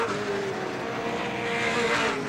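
Winston Racing Series Pro Stock race cars roar around Star Speedway, a steady, loud wall of engine noise from several cars running close together through the turns, with no talk over it.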